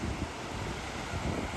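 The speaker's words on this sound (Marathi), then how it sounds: "खूप वारा इकडं आणि पाणी पण आज भरपूर आहे" Strong wind buffets the microphone at the seashore in Goa, a steady, loud rushing roar with gusty swells and possible surf underneath, and no one speaking.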